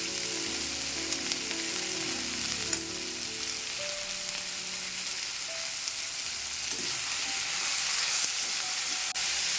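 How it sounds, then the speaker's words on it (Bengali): Bitter gourd, potato and chopped onion fry in hot oil in a wok, giving a steady, loud sizzle and hiss that runs unbroken through the whole stretch with no voices. "আমি কড়াইতে তেল গরম করে উচ্ছে আলু পেঁয়াজ কুচিটা দিয়ে দিয়েছি"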